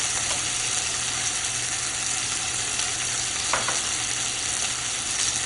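Stuffed lamb sears in a hot pan, giving a steady, loud sizzle and crackle that holds at an even level throughout, with no voices.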